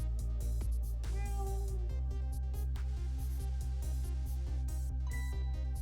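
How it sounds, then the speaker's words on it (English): A black cat meows in the video game Ghost Trick: Phantom Detective, with short game meows over steady, loud background music that pulses in a regular beat. "Is that a black cat?"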